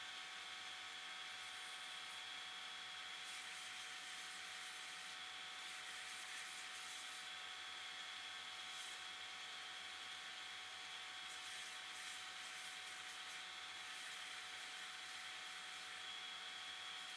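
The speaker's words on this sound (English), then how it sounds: "I continue sanding, finessing the details" A power sander runs steadily across a wooden project, a continuous even whir with a faint rubbing texture, no pauses and no talk.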